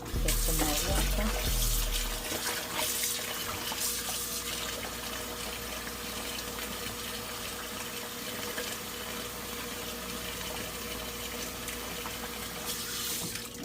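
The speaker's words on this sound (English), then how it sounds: "get some more water" Water running steadily from a kitchen tap while cooking cow foot and broad beans, a continuous close splashing rush that holds at an even level throughout.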